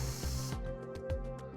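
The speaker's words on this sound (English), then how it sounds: "we'll spray it down with some lubricant and rust penetrant" Aerosol lubricant and rust penetrant sprayed onto a bolt on a 2007 Ford F-250 Super Duty during a gooseneck hitch install: one steady close hiss that cuts off after about half a second, followed by faint clicks.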